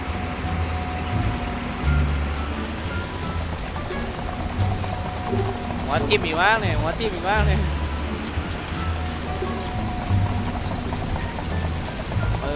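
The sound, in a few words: rain falling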